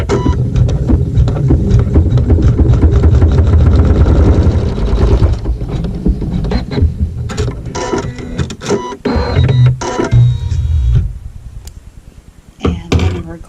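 A sewing machine stitches a seam through quilt fabric, running in a loud, fast, rattling whir for several seconds, then stopping and restarting in shorter bursts with clicks and knocks between, close by and without talk.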